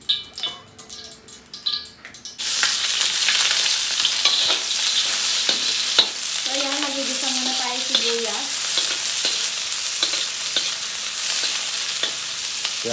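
Cooking oil heating in a pan for chicken adobo, starting with a short stretch of quieter kitchen clatter and then a steady loud sizzle and crackle that runs unbroken to the end, with a few brief scraping stirs partway through.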